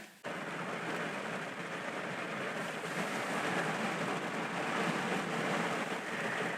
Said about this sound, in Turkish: az evvel büyük kamerayı kapattım ve yağmur başladı